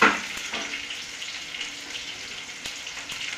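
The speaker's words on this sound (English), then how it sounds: "to wash your tomatoes." Tomatoes rinse under a running kitchen tap, a steady close hiss of water with faint splashes, while onions sizzle in hot oil nearby; no speech.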